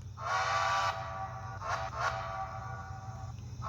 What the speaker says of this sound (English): nearly every single decoder manufacturer has a clip of that as an option for a whistle